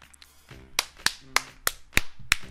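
Clapping: six sharp, close, loud claps spaced roughly a third of a second apart, over low background hum and a few faint murmurs.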